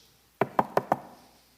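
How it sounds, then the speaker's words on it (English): Four quick knocks on a door in an even rhythm, close and fairly loud against near silence, with no voices. "he heard a knock at the door"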